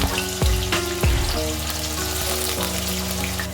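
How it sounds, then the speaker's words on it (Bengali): Sliced potatoes fry in hot oil, a steady close sizzle that runs the whole time, with a few scraping stirs near the start and no voices. "স্লাইস করা আলুগুলোকে ওই একই তেলে দিয়ে নাড়াচাড়া করে ভালো করে ভেজে নিয়ে নামিয়ে নিচ্ছি"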